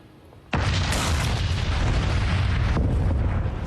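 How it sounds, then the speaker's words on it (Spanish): Mount Pelée's volcanic eruption of May 8, 1902 bursts in with a sudden massive boom after a brief quiet, then a sustained loud roaring rumble with a second surge near the end, no voices. "Cuando el monte Pelé entró en erupción a las 8:02 de la mañana del 8 de mayo de 1902, la explosión generó un estruendo tan grande"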